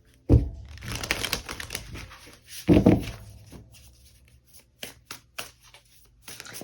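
Oracle cards being shuffled by hand during a tarot reading, two bursts of riffling near the start followed by quieter intermittent card flicks and slides, close and alone with no talk.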